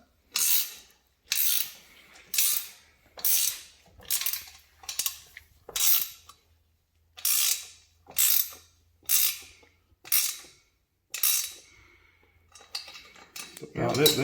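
A homemade clutch puller for a 2007 Victory Vegas Jackpot motorcycle being tightened in a workshop: about a dozen evenly spaced, loud rasping metal ratchet strokes, each roughly half a second long, with a brief pause partway through.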